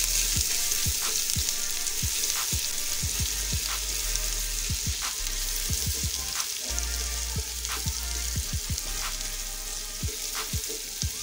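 Garlic-ginger paste sizzles in hot oil in a pan for a chana pulao, a continuous bright frying hiss broken by repeated scrapes and taps of a spoon stirring, close and alone without talk.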